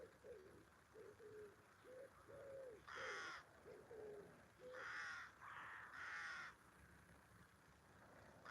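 Birds call from bushes across a river in the Norfolk Broads: a run of short cooing notes, then several loud harsh caws in bursts, at moderate distance over quiet outdoor background.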